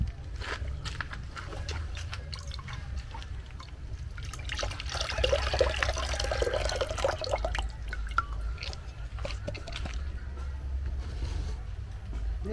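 Drinking water pours and trickles into a container, swelling into a louder splashing stream midway before settling into softer dribbles over a low background hum.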